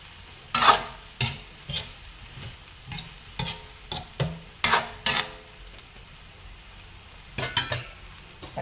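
Cabbage being stirred and sautéed in a pan with chicken hotdog and vegetables: a series of sharp spatula scrapes and clinks against the pan at an uneven pace, over a faint sizzle, with no talking.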